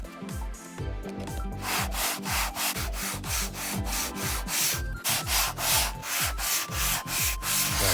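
A self-healing cutting mat is sanded with rough 80 grit sandpaper in quick, rhythmic back-and-forth strokes. The rasping scrape is close and loud, with steady repetition throughout.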